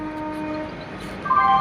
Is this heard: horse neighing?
no